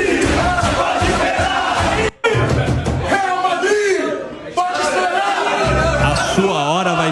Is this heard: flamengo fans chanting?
yes